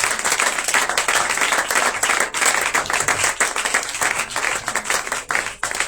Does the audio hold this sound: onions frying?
no